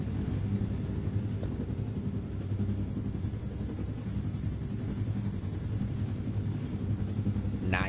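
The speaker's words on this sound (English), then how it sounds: "Helicopters." VTOL helicopters fly in the video game Wolfenstein: The New Order, giving a steady, loud rotor and engine rumble that holds throughout, with a brief rising whine at the very end.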